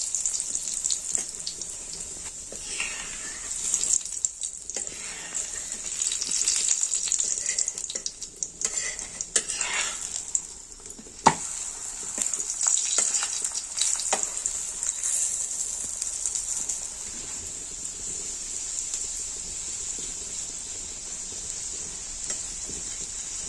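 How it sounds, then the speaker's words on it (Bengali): Cumin paratha frying in oil in a pan, a steady bright sizzle that swells and fades as it is turned, close and continuous with occasional clinks. "এবার আমি এটা উল্টে ভেজে নিচ্ছি এভাবে আমি তেল দিয়ে দিচ্ছি"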